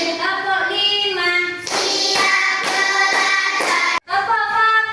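A group of classroom children claps hands in a counted clap game: five crisp, evenly spaced claps ring out over steady chanting voices, with a brief hush near the end.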